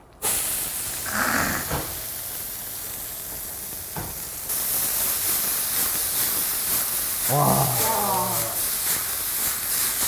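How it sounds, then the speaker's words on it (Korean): Bean sprouts stir-frying in rendered meat fat in a Vermicular cast iron pan give a steady loud sizzle and hiss that swells partway through, with brief voices talking over it. "이 고기가 탄 이 기름에 바로 우리는 숙주를 넣어주겠습니다"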